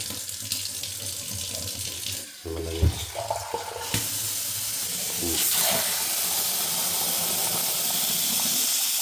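Tap water running into a pot of boiled eggs to cool them for kwek kwek, a steady close hiss and splash that swells louder in the second half.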